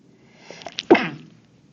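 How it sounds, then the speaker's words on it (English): A single sneeze, a short sharp burst after a brief breathy build-up, close and fairly soft against near silence. "Pardon my sneeze."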